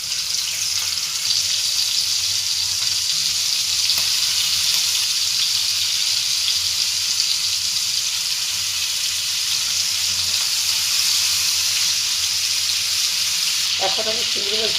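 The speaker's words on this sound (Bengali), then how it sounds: "এখন আমি চিংড়ি মাছ দিয়ে দিচ্ছি।" Shrimp dropped into hot reused frying oil for a spicy onion and green chili bhuna give a steady, loud, close sizzle with no break for about fifteen seconds. A brief clatter sounds at the very end.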